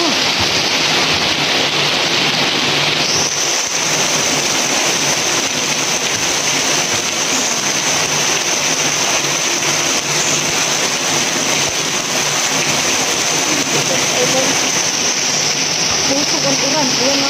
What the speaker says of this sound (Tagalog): Sobrang lakas ko ang ulan namin dito sa Masbate.